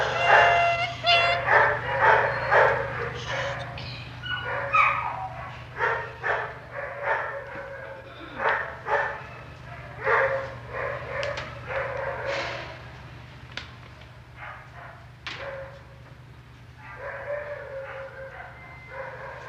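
Many dogs bark, yip and whimper in an animal shelter, a dense overlapping chorus of close, loud barks in irregular bursts over a steady low mechanical hum.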